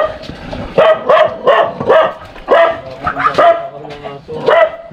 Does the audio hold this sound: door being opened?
no